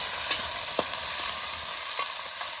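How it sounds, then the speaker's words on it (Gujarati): Peas tipped into a pan of frying vegetables and stirred, with a steady close sizzle broken by a few sharp scrapes of the spoon against the pan. "તો આપણે અંદર વટાણા પણ નાખી દઈશું."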